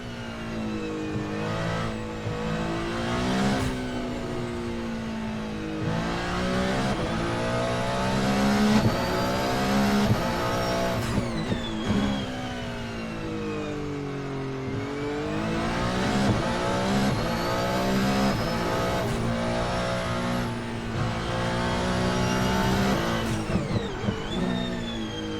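An Isotta Fraschini Tipo 6 race car engine in a racing game revs hard through repeated gear changes, pitch climbing and dropping in long sweeps, loud and continuous throughout.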